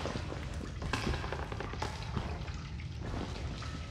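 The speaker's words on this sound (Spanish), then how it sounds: "Oigo agua." Water drips and trickles steadily in a dark setting in the Outlast video game, a faint, close, liquid patter of small irregular drops over low ambient rumble, with no voices.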